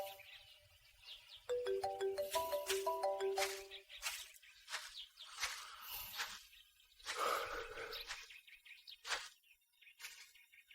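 A phone ringtone plays a short melodic chime pattern at moderate volume, followed by quieter rustling and faint indoor sounds.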